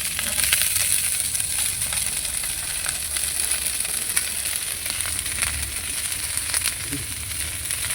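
Cauliflower, beans, potato and spring onion sizzle and fry steadily in a pan over a wood fire, a continuous close crackling hiss with occasional stirring scrapes and no speech.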